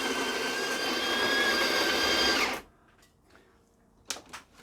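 A Delonghi La Specialista EC9335BM espresso machine's built-in grinder whirs loudly and steadily for about two and a half seconds, then cuts off abruptly, leaving a few faint clicks and knocks.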